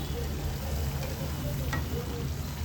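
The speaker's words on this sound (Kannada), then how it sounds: "ಕ್ರಿಸ್ಪಿಯಾಗಿಯೇ ಫ್ರೈ ಮಾಡ್ಕೊಳ್ಬೇಕು" Jalebi batter fries crisp in hot oil over a medium flame, a steady close sizzling hiss with faint crackles and no talking.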